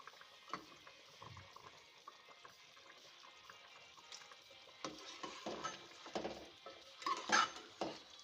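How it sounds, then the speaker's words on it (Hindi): A spoon stirs chicken nihari in a pot as flour is added a little at a time, giving soft scraping and clinking strokes that grow louder and busier toward the end, with no talk. "अब मैं इसमें हल्का हल्का आटा डालूँगी और चमचा चलाती जाऊँगी।"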